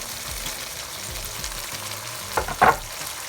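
Corned beef and egg stew frying in a pan, a steady soft sizzle running throughout with a couple of brief louder scrapes or stirs near the end.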